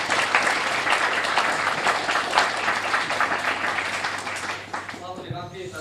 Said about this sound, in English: we should all give a big round of applause for every committee